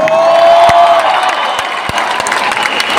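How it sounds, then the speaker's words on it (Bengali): An audience applauds loudly and continuously at a stage performance by Bengali film directors, with a dense wash of clapping and a brief cheer near the start. "জোরে হাততালি ভাই।"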